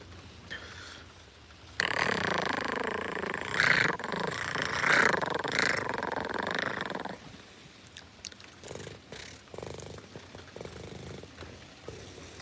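A person imitates a cat, producing a raspy growl and purr that runs for several seconds, close and fairly quiet, then trails off into softer scattered sounds.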